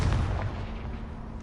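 Confringo fire spell blast in Hogwarts Legacy, a loud booming burst up front that rolls into a sustained low rumble and fades slightly over a second and a half, with no voices.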